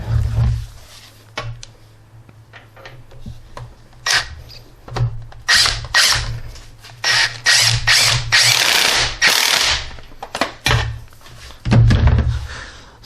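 A ratchet tightens the top bolt on the front engine mount of a Lexus ES300 Toyota V6, making repeated close, loud clicking strokes in uneven bursts with brief pauses between them.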